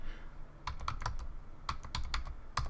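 Fingers type on a computer keyboard in quick irregular bursts of crisp clicks and key taps, close and clear over a quiet room background.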